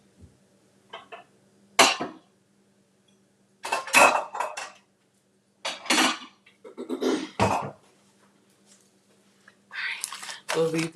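Dishes and pans being handled in a home kitchen during a live cooking class, with scattered clinks and clatters coming in bursts, close by, alongside a cough and some quiet voices.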